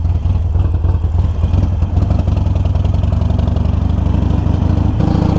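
A Harley Sportster motorcycle rumbles loud and close while being ridden, its engine pulsing steadily at low speed with a rough, throbbing clatter and small shifts in revs, no voices.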